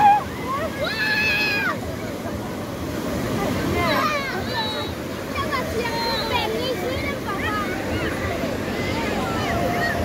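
Ocean waves breaking at uShaka Marine World, a steady washing roar of surf with wind buffeting the microphone, while people talk over it.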